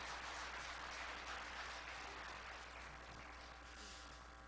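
A standing church congregation claps together in sustained, even applause that carries at a fairly faint, distant level and stays steady throughout.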